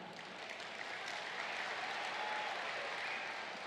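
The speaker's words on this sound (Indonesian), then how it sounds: "Yang kencang dikit tepuk tangannya" Steady, distant applause from a large crowd at an Indonesian Golkar Party political speech event, a continuous even wash of clapping with no talk over it.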